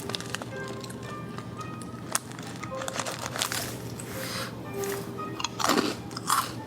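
Crunchy mixed nuts snack bitten and chewed close up, repeated crisp crunches and crinkling over a busy background hum, with faint voices.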